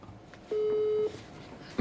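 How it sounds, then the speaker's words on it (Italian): While a phone number is dialed, a single clear keypad tone sounds for about half a second. It stands out against quiet background hiss and ends with a brief click. "andiamo a comporre ora il numero"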